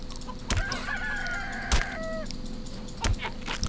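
Clucking chickens in the CHKN video game, with drawn-out squawks and crow-like calls over a steady game background, punctuated by a few sharp thumps.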